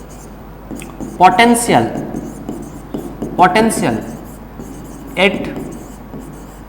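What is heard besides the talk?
writing while explaining physics answers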